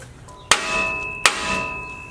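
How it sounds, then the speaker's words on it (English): A hammer strikes a truck's steering tie rod twice with sharp metallic clangs, each ringing briefly, close by in a workshop during a lift installation. "Someone grab a hammer."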